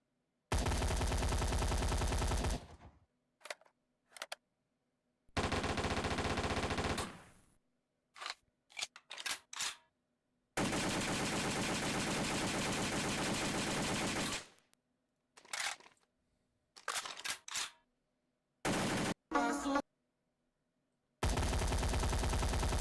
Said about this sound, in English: Pew pew, you want some gunshots?